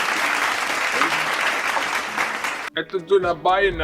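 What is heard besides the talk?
applause for the grandmother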